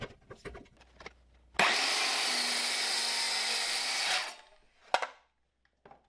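A circular saw rips a board along a clamped straight edge, a loud steady cutting whine of about two and a half seconds that winds down, with scattered handling clicks and knocks before and after.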